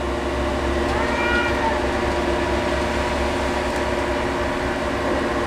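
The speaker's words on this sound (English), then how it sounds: "So even the cats are going crazy." Cats outside fight and yowl, drawn-out wavering caterwauls rising above a constant mechanical hum, with a voice talking faintly in between.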